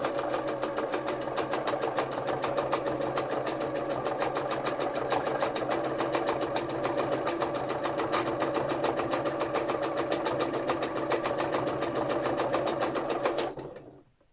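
A sewing machine stitches free-motion embroidery over hand-painted fabric in one long, even, rapid run of needle strokes, loud and close, before stopping abruptly near the end.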